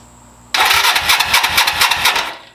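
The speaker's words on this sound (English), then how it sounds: "we have ignition. I'm going to do it one more time" A 1982 Suzuki GS300L motorcycle engine cranks and catches after a new starter relay, a sudden loud start followed by a throbbing, pulsing idle close by before cutting off.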